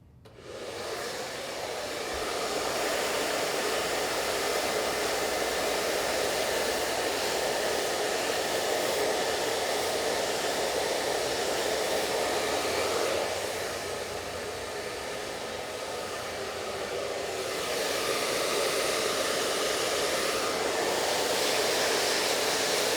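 A handheld hair dryer blowing on hair above the ears during a volume blow-dry, a loud steady whooshing roar that runs nearly the whole time and dips slightly midway as it moves.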